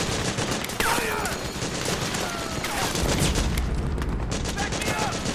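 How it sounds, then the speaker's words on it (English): Suppressing gunfire in the Metal Gear Solid 4: Guns of the Patriots video game, a dense, continuous fusillade of rapid shots and booms that runs without a break, with shouting voices underneath. "Suppressing fire!"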